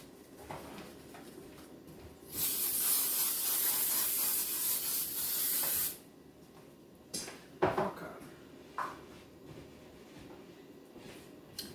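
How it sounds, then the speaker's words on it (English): Cooking spray hisses onto a baking pan in a single sustained burst of several seconds, followed by quieter clinks and handling noises of the pan and utensils. "I'm going to spray my pan."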